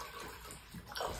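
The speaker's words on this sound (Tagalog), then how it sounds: "Let's put some water." Water pours steadily for about a second, close by and fairly hushed, with no voices over it.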